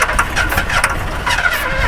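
A truck engine cranks over without starting, the starter turning it in a rapid, steady churning rhythm, close and fairly loud, with no talk during it.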